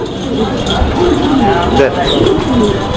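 Fancy pigeons coo in a busy, noisy setting, low burbling calls repeating over a constant background din while a person talks nearby.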